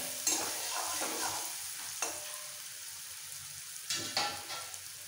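Bitter gourd and pumpkin stir-frying with salt and turmeric in a pan: a soft sizzle broken by several scraping stirs and clatters, clustered at the start and near the end, close by with no speech.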